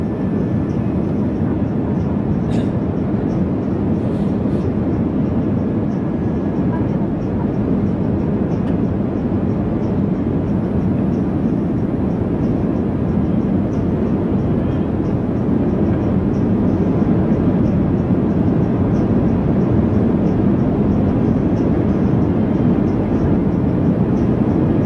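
Inside a passenger airplane cabin on a flight to Singapore, a constant loud broadband roar of engines and airflow fills the whole stretch, with faint clicks and cabin sounds on top and no talking.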